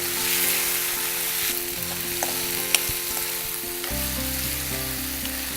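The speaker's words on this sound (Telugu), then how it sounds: "ఎండుమిర్చిని ఇలా పొడిగా చేసుకొని చక్కగా ఫ్రై చేయాలి" Dry red chillies frying in a pan for a kadai chicken masala, a steady close sizzle with occasional stirring scrapes and one sharp tap of a spoon against the pan.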